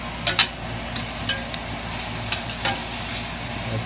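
Red wine beef bolognese fries in a pan with a constant low sizzle, while a spoon stirs it in a handful of quick scraping knocks, near and free of speech.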